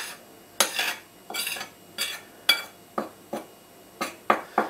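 A fork stirs and mixes food in a bowl, giving about ten sharp clinking, scraping strokes in an uneven rhythm, close and fairly loud with no talking.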